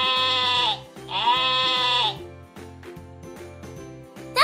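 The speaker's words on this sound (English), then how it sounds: "Can you baa like a sheep?" Two drawn-out sheep bleats ring out over a light, repetitive music backing, followed by just the music continuing.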